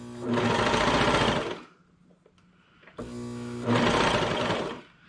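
A sewing machine stitches a sweater hem in two close, loud bursts of rapid, even whirring separated by a short pause with faint handling of the fabric.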